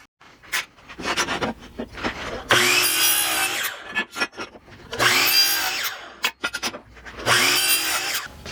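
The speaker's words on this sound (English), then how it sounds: "I do need to drill a couple holes in here." Three loud, sustained bursts of a power drill boring into material, each lasting a couple of seconds, separated by quieter handling clatter.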